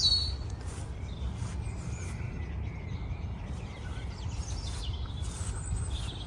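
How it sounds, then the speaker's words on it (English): Faint outdoor birdsong near a large magnolia tree, light chirps sprinkled over a constant low rumble of ambient noise, no voices. "The bird song is so beautiful,"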